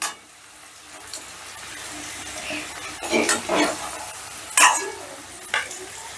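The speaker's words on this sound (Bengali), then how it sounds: "এবার তেল ঝরিয়ে আলুগুলো তুলে নিচ্ছি।" Fried potatoes, browned to a deep red, are scooped out of hot oil and drained for a vegetarian mung dal alur dom: a soft sizzle with several scraping, clattering lifts near the end, no talking.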